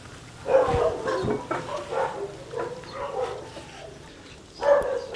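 A dog barks and yips a few times at moderate distance, with short bursts at the start and near the end amid light background noise.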